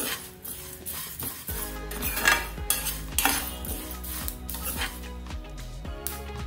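Spices, including cumin seeds, dry-roast in a pan without oil for curry leaf spice powder, with a utensil scraping and stirring in rapid, steady strokes, close and continuous with faint rattling.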